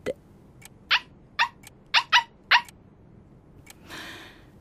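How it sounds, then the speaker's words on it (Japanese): A scruffy stray dog gives several short, sharp barks one after another, fairly close and alone, followed by a brief rustling noise. "あんな汚らしい犬。"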